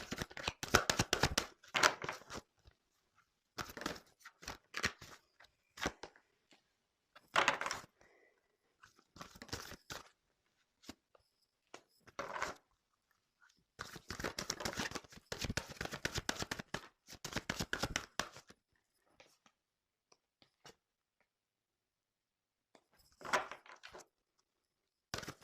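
Tarot cards being shuffled and drawn, bursts of riffling and sliding card noise in irregular clusters separated by silent pauses, close and fairly loud, with no talking.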